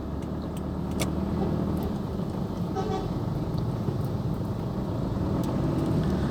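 Busy Jakarta street traffic on Jalan Mas Mansur: a steady hum of engines and passing vehicles, with several short car horn toots scattered through it at moderate distance.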